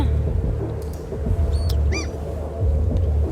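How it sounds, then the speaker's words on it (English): A short bird sound effect played in a video game, a few quick high chirps and a rising warble standing out over a steady low rumbling background hum, no voices. "Play sound bird."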